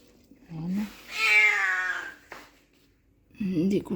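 Several pet cats meowing close by indoors, a short mew followed by a longer drawn-out meow, then more wavering cries at the end.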